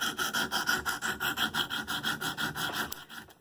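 A 100 grit KME stone drawn across the edge of an M4 Manix knife, a fast even run of about a dozen rasping back-and-forth strokes, close and fairly loud, without talk.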